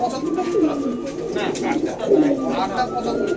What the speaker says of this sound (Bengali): অনেক সুন্দর সুন্দর কবুতর দেখেন এখানে